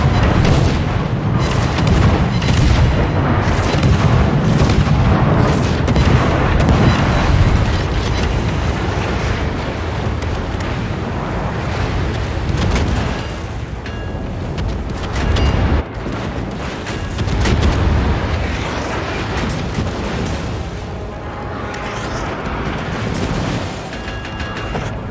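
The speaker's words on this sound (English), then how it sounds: "Requesting fire on the designated target." Artillery fire pounds a designated target in a naval combat video game, heavy booming explosions rolling one after another for the full stretch, dense and loud with bursts overlapping and no pause.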